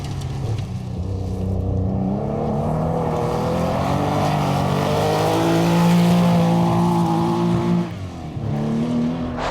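A rally car's engine races along a special stage at the Maroc Historic Rally 2023, sustained and loud with a rising revving drone that drops briefly near the end before climbing again.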